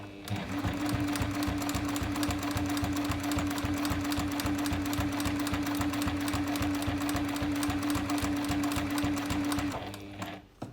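A sewing machine top stitches a zippered fabric sunglasses case at a long stitch length, running as one steady, continuous close whir with a rapid needle rhythm for about nine seconds before stopping.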